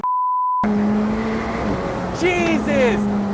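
A short electronic beep comes first, then a McLaren 765LT Spider's engine surges under full throttle in first gear on a South Beach freeway onramp. The rising engine pitch is mixed with excited voices.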